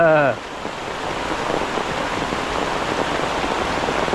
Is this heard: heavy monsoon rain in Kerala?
yes